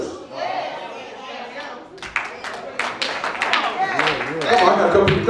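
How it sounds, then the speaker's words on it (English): Audience in a church breaks into sharp hand clapping that grows denser and louder after someone speaks over a quieter opening, with speech continuing under the claps. "Come on, I got a couple of clapping hands here."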